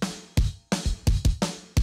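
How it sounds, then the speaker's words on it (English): Sample-replaced kick drum and snare from a free metal drum kit in a mix, heard alone as a steady pattern of punchy low kicks and sharp cracking snare hits, loud and close, about six strikes in under two seconds. "So our kick and snare sound like this."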